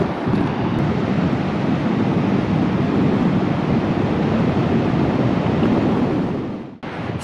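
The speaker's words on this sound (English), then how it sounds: "Okay, you have to see these waves." Large ocean waves at Long Beach on the west coast of Vancouver Island, a loud continuous roar of surf mixed with heavy wind noise on the microphone, steady throughout with a brief dip near the end.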